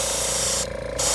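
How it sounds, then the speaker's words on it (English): An airbrush sprays white paint onto leather during a repair, giving a close, steady hiss that briefly drops out and then resumes. "we're going with the airbrush kit"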